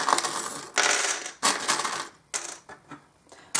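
Small metal charms are tossed down for a reading, giving several loud jangling, rattling bursts of clinking metal, each settling into quieter scattered clicks, close by with no talking.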